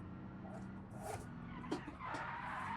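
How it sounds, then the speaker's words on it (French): Tires skidding as a Fiat 500 drifts in the BeamNG.drive driving game, a steady broadband screech over engine drone with a sharp bump near the middle. "Ah, le drift en question."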